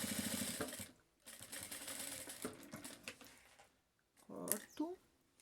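A sewing machine stitches a seam on a fabric phone wallet, running in close, rapid mechanical bursts that stop and restart, with a person speaking quietly between the runs.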